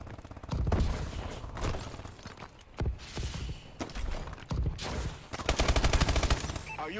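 Rapid gunfire bursts from the video game Call of Duty: Advanced Warfare, loud repeated automatic shots in several clusters with brief gaps between them.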